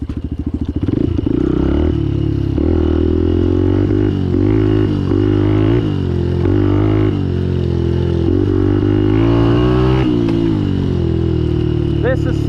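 Steady, loud engine drone of a Benelli TNT 135 motorcycle riding off-road on street tires, the note rising and dipping with throttle changes, and rattling clatter throughout under a rider's voice.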